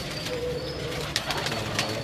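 Salare teddy pigeons cooing near at hand, soft repeated coos over a steady background din, with a few sharper flutters or calls breaking through in the second half.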